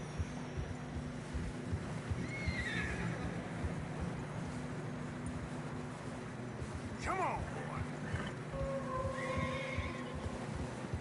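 Horses in Red Dead Redemption II struggle through fresh snow, whinnying and snorting over steady wind and a low engine-like drone, with a man briefly urging one on.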